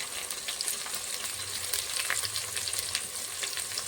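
Fish sizzling and frying in oil in a pan for fish curry, a steady bright crackle held close and fairly loud for the whole stretch, with faint stirring underneath and no talking.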